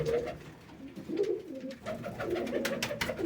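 Pigeons with young chicks coo together in a loft, overlapping throaty calls rising and falling continuously at close range, no voices.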